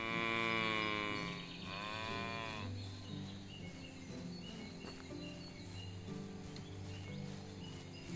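Cows in the medieval farming game Medieval Dynasty moo in two long, loud calls at the start, then the lowing fades under a soft layer of game ambience and background music.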